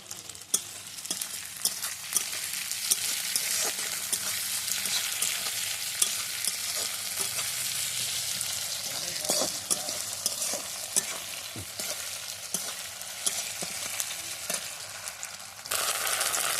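Capsicum and onion with a little sugar and salt stir-fry in a pan for chilli chicken. A loud, dense, continuous sizzle runs throughout, with frequent spatula scrapes and clicks, and no one speaks.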